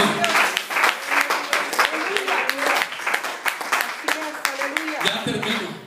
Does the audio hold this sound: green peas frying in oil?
no